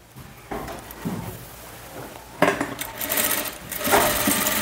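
Sewing machine stitching a boatneck blouse, starting up in short close bursts of rapid needle clatter separated by brief pauses, with light handling noise between runs.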